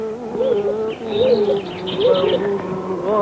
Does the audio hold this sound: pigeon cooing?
yes